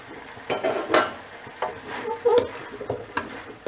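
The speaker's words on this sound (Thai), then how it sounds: "ถั่วฝักยาวลวก ลงไปปุ๊บคลุกเคล้าให้เข้ากันก็เป็นอันเสร็จเรียบร้อย" Blanched long beans tossed and stir-fried in a pan with red curry paste, giving clinks and scrapes of a utensil against the pan in irregular bursts, close and moderately loud, with faint kitchen noise between.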